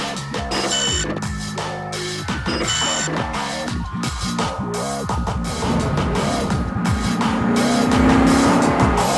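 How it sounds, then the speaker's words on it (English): A Nissan Altima drives hard in a commercial, its engine revving loudly through gear changes with tire squeals and fast passes, all set over a busy, dense music bed and no voices. "Nissan Altima."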